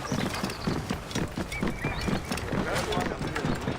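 Horse hooves clip-clop steadily at a riding gait in the Assassin's Creed Origins video game, with a whinny and a steady bed of background game sound, and some voice over it.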